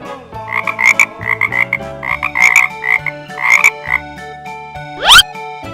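A frog sound from an animal toy croaks loudly and up close in a series of rapid bursty calls, ending with a rising squeaky chirp.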